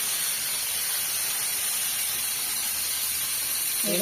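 Fish sizzling as it fries in a pan in a village kitchen: a steady, loud, broadband hiss that runs unbroken from start to finish with no voices.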